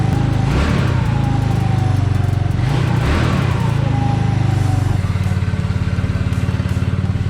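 A 150cc, 9.9-horsepower mid-engine caged go-kart engine runs steadily at close range, a loud, continuous droning hum that holds constant with slight shifts in pitch throughout.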